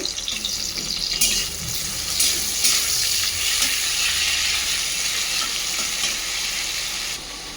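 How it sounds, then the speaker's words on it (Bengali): Prawns frying in hot mustard oil in a kadai, a loud, close, continuous hissing sizzle that holds steady for several seconds with no talking. "কড়াতে সরষার তেলটা গরম করে আমি এবার চিংড়ি মাছগুলো ভেজে নেব"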